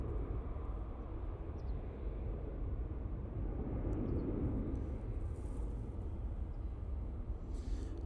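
A Ryanair airliner departing Manchester Airport for Rabat, heard as a steady, broad jet engine roar that stays fairly constant and moderately distant throughout, with no other sounds standing out.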